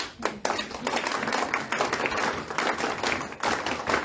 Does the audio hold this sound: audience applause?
yes